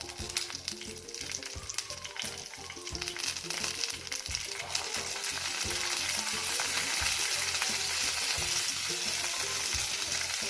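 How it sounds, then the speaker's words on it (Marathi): Coriander seeds roast alongside chillies in a hot pan for a spicy thecha, giving a steady close sizzle with stirring that grows louder in the second half, with no talking. "त्यानंतर आपण टाकूया तिथे धने."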